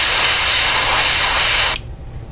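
A steady, loud aerosol spray of white primer paint hisses continuously for nearly two seconds, then cuts off abruptly, leaving quiet room tone.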